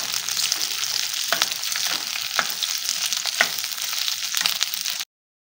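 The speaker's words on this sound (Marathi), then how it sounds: "थोडी आपण ही भेंडी भाजून घेऊ" Okra roasts dry in a pan, producing a continuous crackling hiss with scattered stirring taps. It sounds close and even, without voices, then cuts abruptly to silence.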